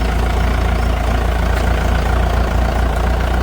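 A jeep engine idles steadily at close range in a village, a constant low rumbling drone with no change in pace and no voices.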